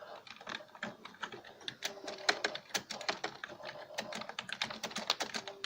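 Typing on a computer keyboard, a quick irregular run of crisp key clicks and taps that speeds up and slows in bursts, close but fairly quiet, with no voices over it.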